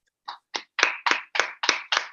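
Seven separate hand claps come through an online call for presenters, at first sparse and then settling into a steady, even rhythm. The claps are close and crisp, with no talking.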